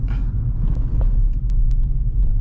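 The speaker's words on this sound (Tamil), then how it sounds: "இருக்கிறதுலே ரஃப்பான ரோட்டில் ஓட்டிகிட்ருக்கேன். எப்படி சத்தம் வருதுன்னு நீங்களே சொல்லுங்கள்." Inside a Nissan Magnite Turbo CVT driving over a rough road, a loud, steady low rumble of road and tyre noise fills the cabin, with a few small knocks and rattles on top.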